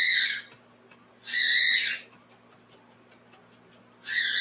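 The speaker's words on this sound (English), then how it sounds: "another bird is going to get started tonight" A bird calls outdoors at night in repeated high, hoarse bursts, three calls spaced a couple of seconds apart over a faint steady background hum.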